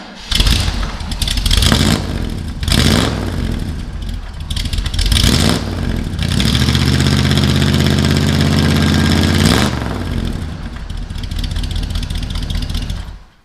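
A 1977 Chevy C10 with a small-block V8 and stock exhaust runs loud and close, idling with a deep rumble, then revving hard in several bursts, with a sustained high-rev stretch before dropping back to idle.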